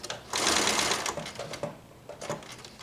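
A sewing machine stitches a close zigzag embroidery, running in a steady rapid whir that pauses briefly midway and then starts again for a short burst, heard close up.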